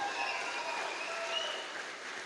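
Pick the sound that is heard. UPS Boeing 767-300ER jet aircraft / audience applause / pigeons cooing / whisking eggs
audience applause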